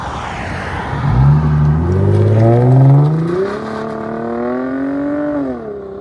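A 2012 Lexus IS 250 2.5L exhaust with blue flame tips revs hard, pitch climbing and holding, then easing off and rising again. The engine is loud and close, with no other sounds.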